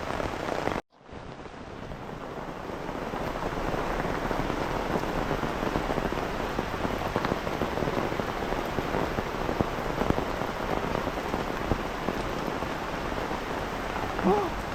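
Heavy rain pours steadily at a tent campsite in Chaam, Saraburi, with runoff water rushing along the ground; a dense, continuous hiss holds close and loud after a brief dropout at the start.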